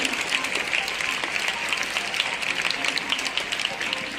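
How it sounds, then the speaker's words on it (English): A crowd applauding steadily, a dense patter of many hands clapping at once that holds throughout at a fairly even level. "Not just clapping."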